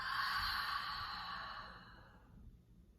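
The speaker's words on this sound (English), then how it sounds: "breathing deep into your belly, and exhaling through your mouth" A deep exhale through the mouth as a relaxation breath, heard as one long breathy rush, close and fairly loud, that fades gradually over about two seconds with no talking.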